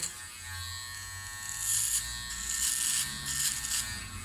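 A Powertec TR-1158 electric hair clipper cutting hair, giving a steady close buzz that swells in short bursts as the blades pass through, with no talking.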